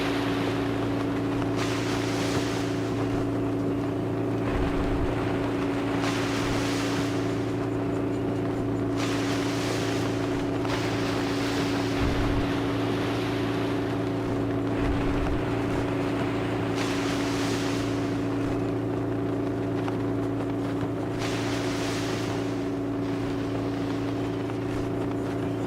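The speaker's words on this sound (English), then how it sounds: "Pretty good waves out here." Ocean waves and wind wash steadily around a sailboat in the eSail sailing video game, with periodic surges of spray over a constant low hum, with no talking.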